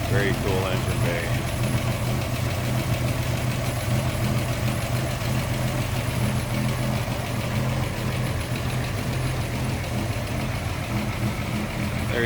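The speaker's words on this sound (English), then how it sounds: "Get a chance to see it run also. 1927 Buick Model 2754 Deluxe Sports Roadster." A 1927 Buick Model 27-54 Deluxe Sports Roadster with a 274 cubic inch inline six runs at a steady idle, a loud continuous low rumble with an even throb throughout.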